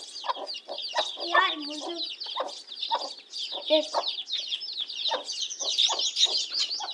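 Chickens cluck repeatedly and close by, with short busy calls and a few louder squawks, while a person speaks briefly in the middle.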